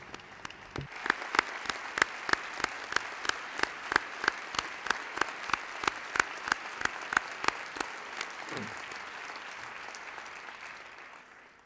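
Audience at an economy award ceremony claps in a slow, even unison rhythm, sharp regular claps over a softer bed of applause that fades toward the end.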